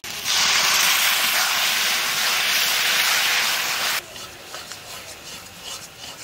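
Tomato puree hitting a hot pan of fried onions, a loud, broad hiss that surges in at once and holds steady for about four seconds, then drops to a quieter crackling simmer.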